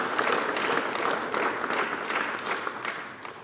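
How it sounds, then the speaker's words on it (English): Another round of audience applause for the President of the Republic of Namibia at the launch of the Harambee Prosperity Plan II, dense clapping that gradually thins toward the end. "Let us give another round of applause to the President"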